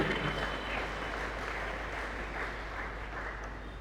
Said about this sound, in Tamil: கைத்தட்டி ஆண்டவரை மகிமைப்படுத்துவோம்.